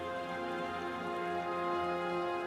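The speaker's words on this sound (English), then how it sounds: "I don't know if the weather is supposed to be rainy" Steady rainfall in the Final Fantasy XIV game world, a continuous even hiss with a layered tonal background running beneath it, no clear gaps.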